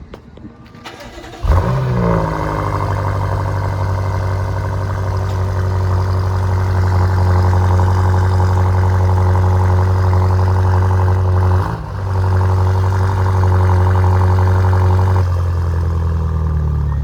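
A BMW M5 Competition engine cranks and fires, then holds a loud, deep, steady rumble close by, with a brief dip in the middle and sharp exhaust pops and burbles over the running note.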